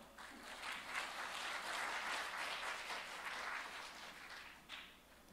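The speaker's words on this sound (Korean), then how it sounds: "큰 박수로 맞아주시기 바랍니다" An audience at a startup and venture-investment forum session in Jeju applauds to welcome a presenter, a steady, dense round of clapping that holds for about five seconds before tapering off.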